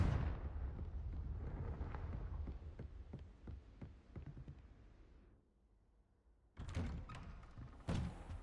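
A Confringo blasting spell explodes in the Hogwarts Legacy video game, a loud rumbling blast with a string of sharp impacts over a second or so. It fades to quiet, then two more bursts strike near the end.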